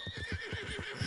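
A horse in the video game Red Dead Redemption 2 gives a short, close whinny, with rapid pulsing neighs and faint hoof clatter under it.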